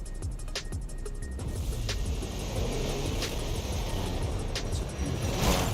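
A car engine drones steadily while driving in Forza Horizon 5, a loud continuous roar with faint clicks on top and a slight swell at the very end.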